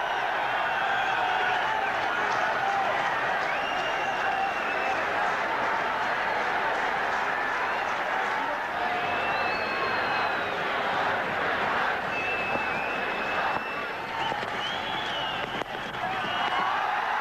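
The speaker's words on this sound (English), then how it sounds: "And the Indians cheering everything now" A large crowd of Indian fans cheering at a one-day cricket final between Australia and India in Sharjah, a continuous loud roar with whistles rising and falling throughout.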